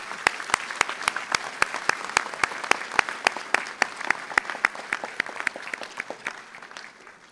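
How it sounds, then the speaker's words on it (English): Audience applause at a university commencement ceremony for the Schools of Arts and Sciences and Graduate Studies: a dense crowd clapping with sharp, loud individual claps standing out, steady for several seconds and thinning slightly toward the end. "Ladies and gentlemen, let's give her one more round of applause."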